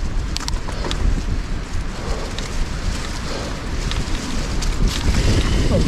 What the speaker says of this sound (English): That wind is picking up good.